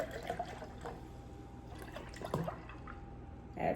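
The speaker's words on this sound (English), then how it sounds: "Add some milk." Milk pours into a chai latte in a to-go cup, a quiet close trickle and dribble with soft splashes, swelling slightly at the end.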